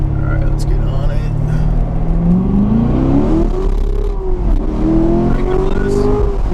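A 2017 Corvette Grand Sport accelerates hard, its engine note climbing steadily in pitch with a loud, continuous roar heard from inside the car, with a voice talking over it.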